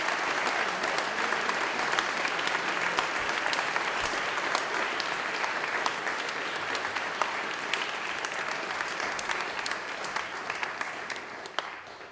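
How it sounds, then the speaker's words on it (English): An audience at a school athletics awards and colours assembly applauds the coaches. The clapping is dense and sustained for the whole stretch, then thins slightly at the close. "So a nice round of applause for your coaches"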